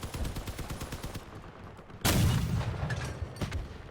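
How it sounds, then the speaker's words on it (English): A cannon fires in the vehicle combat game Crossout, a single sharp, loud boom with a rumbling tail that cuts over a busy background of smaller gunfire and engine noise. "So this is the power of the cannon."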